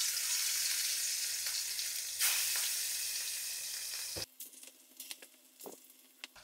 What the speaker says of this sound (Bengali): তেল গরম হওয়ার পর ইলিশ মাছ ছাড়িয়ে দিতে হইবে তেলের ভিতর।